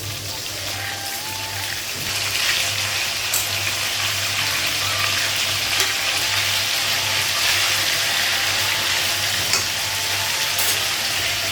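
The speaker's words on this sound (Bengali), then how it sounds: "এই যে মাছটা লাগানো আর এক সাইডে ভাজা হয়ে গেছে," Fish fries in a pan, a continuous close sizzle and spatter that swells louder after the first couple of seconds, with a faint low hum underneath and no speech.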